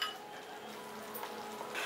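Chole masala cooks and sizzles in a pan while a spoon stirs it, a soft, continuous frying hiss with light scraping, heard up close and without talk.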